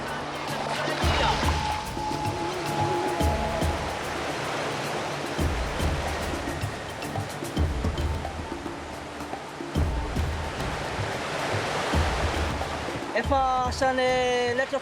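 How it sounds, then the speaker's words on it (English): Rushing water of river rapids at a gold-mining area in Madagascar, ridden on inflatable tubes, a loud continuous roar of churning water with someone talking over it. "Shooting the rapids on these tubes is my speciality."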